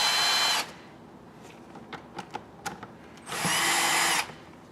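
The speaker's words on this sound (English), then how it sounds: "grab our 8mm socket, wrench, or even a standard screwdriver and loosen these hose clamps" Power tool with an 8mm socket loosening hose clamps on a Dodge Grand Caravan V6 intake, two short loud whirring bursts separated by a few faint clicks and taps.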